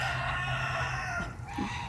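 A rooster crows loudly and close on a farm with hens, geese and ducks, a long drawn-out call over steady outdoor noise, with a brief cluck near the end.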